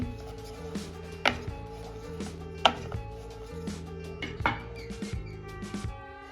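Paratha dough for palak parathas rolled out with a rolling pin on a flour-dusted wooden board, giving repeated knocks and thuds in a steady rhythm over a faint background hum, close and moderately loud, with no talk.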